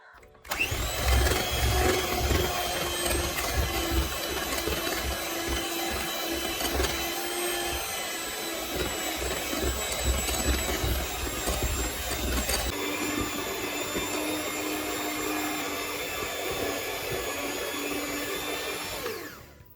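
An electric mixer whirs steadily while blending eggless rasmalai cake batter with cardamom powder, oil and saffron-pistachio essence, a continuous loud motor drone with a brief shift in pitch midway and no talking.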